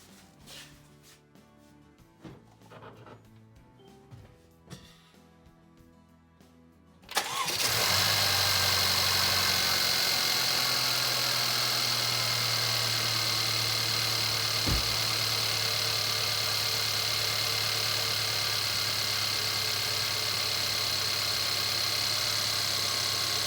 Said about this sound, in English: let's go ahead and run the vehicle, make sure she doesn't leak